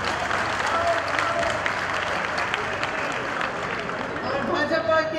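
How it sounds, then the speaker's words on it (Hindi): Dense crowd applause at a Congress party gathering in Varanasi, steady and sustained for several seconds, with scattered voices and cheers mixed into the clapping. "एक बार इनके लिए ताली बजा दीजिए।"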